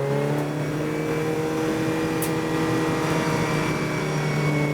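A 40-plus car grid for the 750MC TGR Roadsports Series race at Snetterton, including a Volkswagen Golf TDI, makes a steady, loud drone of many engines running together before a rolling start.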